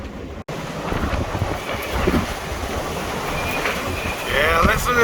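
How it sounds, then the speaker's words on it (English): Strong wind gusts of over 50 mph howling during an Ohio windstorm, a continuous roaring rush with microphone buffeting that swells toward the end, loud with no talk. "listen to those winds howl"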